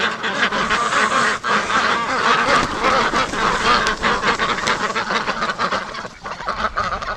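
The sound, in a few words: Muscovy duck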